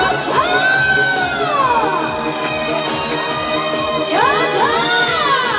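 A festival crowd at the Changnyeong onion and garlic song festival cheers and whoops loudly and continuously, with rising and falling shouts over a steady wall of crowd noise.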